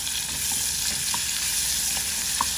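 Onions sizzle steadily in a hot pan on a home stove, a continuous close frying hiss with faint pops and occasional stirring scrapes and no talking.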